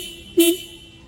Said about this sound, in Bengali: আমার এখানে যে হর্নগুলো দেখতেছেন এগুলো ডেন্সো ব্র্যান্ডের